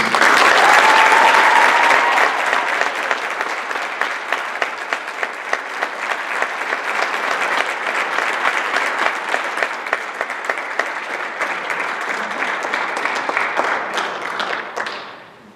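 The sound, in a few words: audience applause for orchestra students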